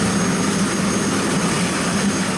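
A helicopter at Kahului Heliport on Maui gives off a loud, steady engine and rotor roar that holds close and unbroken, with no voices.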